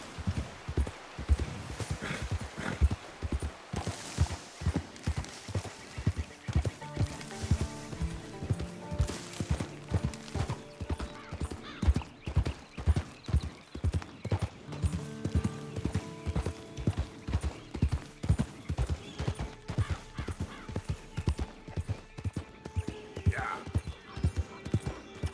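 A horse ridden in Red Dead Redemption 2 clip-clops steadily and rhythmically on the ground for the whole stretch, close and moderately loud, with a brief snort.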